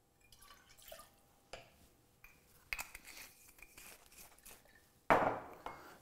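Aperol poured from a jigger into a metal cocktail shaker tin, with soft drips and clicks followed by a brief, bright splash of liquid hitting the tin near the end.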